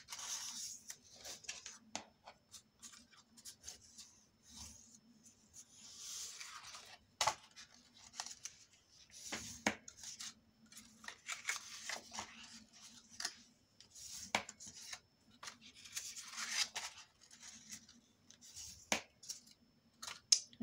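Fold lines being scored into the paper or card of a 4-in-1 folio: quiet, repeated scraping and rubbing strokes in uneven bursts, close by with no talking.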